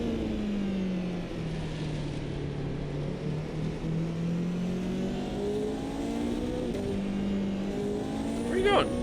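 GT3 race cars launch from the start in Automobilista 2, their engine notes rising and dipping as they pull away, with a layered pack roar and a brief high squeal near the end.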